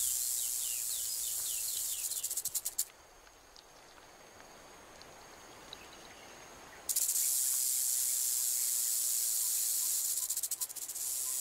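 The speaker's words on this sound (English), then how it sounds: "Rattlesnakes sound a more blatant alarm when people get too close." A rattlesnake buzzing its tail rattle in warning, a loud, dense hiss that drops away for several seconds in the middle before surging back just as strongly and holding steady.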